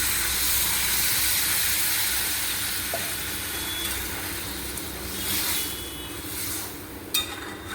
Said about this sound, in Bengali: ভাজা হয়ে গেছে, এর মধ্যে আমি জল দিয়ে দিচ্ছি।